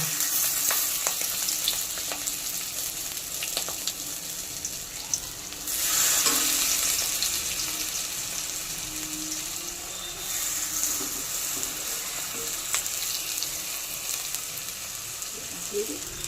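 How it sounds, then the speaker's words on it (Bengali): Fish roe patties wrapped in pumpkin leaves fry in white oil in a wok, giving a steady close sizzle with a louder surge midway as more batches go in. "এইবার ডিমের পাতুরিগুলো অল্প অল্প করে দিয়ে ভেজে নেব"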